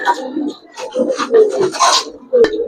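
Giribaz silver pigeons coo in a series of soft, throaty calls close by, with a person talking over them.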